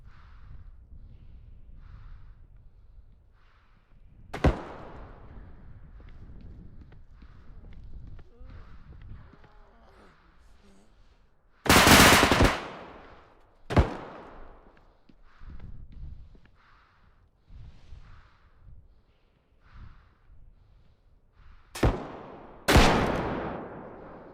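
Loud Escape from Tarkov gunshots crack out as scattered single sharp blasts, a few in close pairs, between quieter stretches of footsteps, breathing and movement, with a voice talking.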